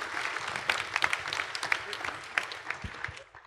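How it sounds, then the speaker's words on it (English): Scattered, fairly faint applause from a conference audience at a Ruby programming lightning-talk session as the next speaker comes up. Individual claps stand out, with a little talking mixed in, and the clapping tapers off. "Big round of applause, guys."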